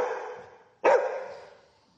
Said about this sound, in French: Aboie.